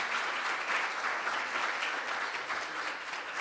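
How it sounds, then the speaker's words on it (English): An audience at a conference panel claps steadily in warm, sustained applause, a dense even patter throughout with no voices standing out. "we deserve a warm applause for our panel members for this"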